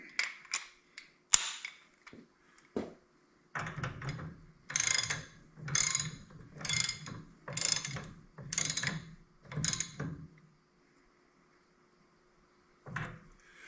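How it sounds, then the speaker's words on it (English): Socket ratchet tightening a part on an AC 6080 tractor, heard as a series of about seven close, sharp clicking bursts in steady rhythm, with a few scattered metallic clanks before and after and no talk. "The socket. Then we'll tighten her down."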